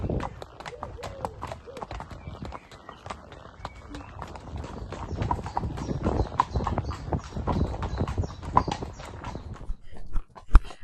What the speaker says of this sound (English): what a lovely trot to finish on